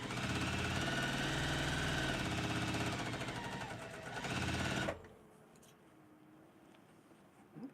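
Sewing machine running loud and steady while chain piecing quilt blocks, a continuous motor drone that cuts off abruptly, leaving a quiet room with faint rustling.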